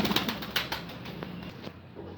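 Pigeons coo softly nearby in a short, low throaty burst, with a few light rustles.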